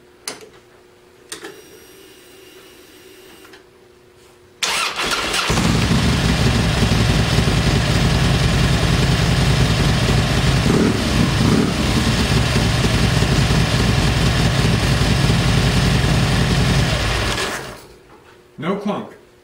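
A 2008 Harley-Davidson Touring motorcycle with a Baker Compensator and Baker Attitude chain adjuster starts with a loud burst, then idles with a steady, close, lumpy rumble for about thirteen seconds before shutting off.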